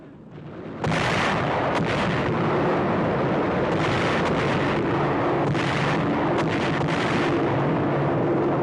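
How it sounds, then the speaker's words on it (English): Para-demolition bombs explode during a World War II low-level air raid, heard as a continuous heavy rumble of blasts with repeated louder bursts layered over one another. "Each plane is loaded with 12 100-pound para-demolition type bombs, whose slow parachute descent gives low-level bombers time to escape the blast."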